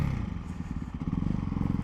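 Ducati Hypermotard 698 Mono single-cylinder motorcycle fitted with an Akrapovic exhaust, idling or rolling with a rapid, low, pulsing thump and slight clatter, close and moderately loud.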